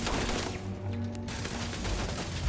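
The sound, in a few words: turret gunfire in Starfield video game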